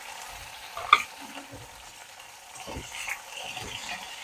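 Green chili, tomato and ginger frying and being stirred in a pan for a vegetarian meal: a steady, soft sizzle with occasional scrapes and a sharp clink near the start.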